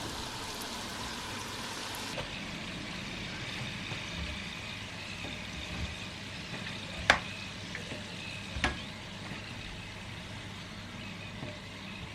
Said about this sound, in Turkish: tereyağıyla peyniri güzelce bir pişireyim dedim